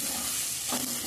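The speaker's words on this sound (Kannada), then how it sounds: "ಇದು ಸ್ವಲ್ಪ ಫ್ರೈ ಆದಮೇಲೆ ತೆಂಗಿನಕಾಯಿ ತುರಿ ಹಾಕ್ಕೊಂಡು ನೀಟಾಗಿ ಫ್ರೈ ಮಾಡ್ಕೋಬೇಕು." Grated coconut fries in a hot pan for a village-style mushroom curry, a dense continuous sizzle with a soft stirring scrape partway through, close and steady with no talking.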